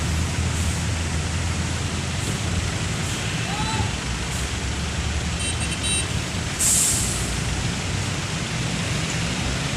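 Rosalia Indah bus reversing slowly in tight, congested traffic, with a steady engine rumble and broad hiss throughout and a sharp air-brake release burst near the end, fairly loud and continuous.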